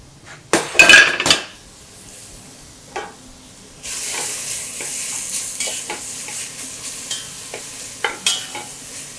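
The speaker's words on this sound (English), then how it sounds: "I'm going to add garlic, chilies, and lemon zest, and cook them together." Garlic, chilies and lemon zest sizzle in a hot pan for a coconut peanut curry, starting with a few clinks and stirring scrapes before a steady, close frying hiss sets in with occasional utensil knocks.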